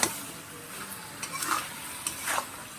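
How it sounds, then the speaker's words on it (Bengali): Quiet stirring of bean and shrimp chorchori in a pan, with soft scraping strokes and faint sizzling, a few brief spoon-against-pan taps spaced across the moment. "এবার আমি ঢাকাটা খুলে নিলাম, নিয়ে আমি আবারও নাড়াচাড়া দিতে হবে"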